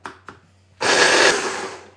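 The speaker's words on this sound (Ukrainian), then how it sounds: "Цибульки дві штуки в блендер. Порізала хаотично крупним кубиком. Тепер просто і змільчити в кашу." A kitchen blender pureeing two coarsely cubed onions with garlic: two small clicks, then a loud, whirring burst lasting about a second that trails off.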